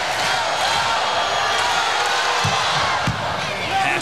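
Loud arena crowd noise fills a men's college volleyball match between Hawaii and UCLA, sustained cheering and yelling with a couple of sharp thumps cutting through near the end.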